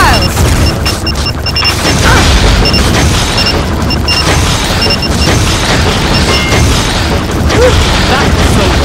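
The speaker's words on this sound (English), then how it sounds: "He is firing missiles!" Missiles launching and blasting in the Transformers Human Alliance arcade shooting game, a dense stream of loud booms and crashes over steady game noise, with short electronic beeps repeating throughout.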